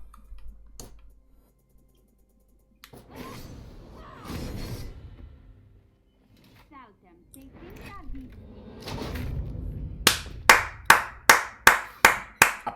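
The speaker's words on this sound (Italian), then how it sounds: "Applausi. Applausi." A quick run of about seven sharp, close hand claps in an even rhythm comes after stretches of people talking and some scattered thumps.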